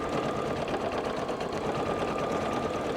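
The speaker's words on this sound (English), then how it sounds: "when you're doing machine quilting" A sewing machine stitches steadily while machine quilting a scrappy fat-quarter quilt, its even motor whir and rapid needle chatter running continuously and close by with no voices.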